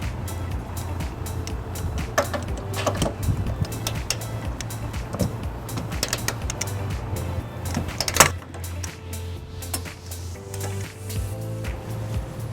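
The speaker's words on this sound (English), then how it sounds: "Now we're going to torque all of our carriage bolts to manufacturer specifications using our torque wrench, a 5-inch extension, and an 18mm socket." A torque wrench on a 5-inch extension with an 18mm socket tightens carriage bolts during a 2018 Chevrolet Trax trailer hitch install. Repeated ratcheting clicks run over a steady low hum, with one louder snap near the end.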